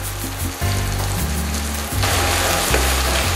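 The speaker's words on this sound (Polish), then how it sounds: "Smażymy mieszając od czasu do czasu" Steady, loud sizzling of pork mince frying in a hot pan, with a continuous crackle and occasional stirring scrapes.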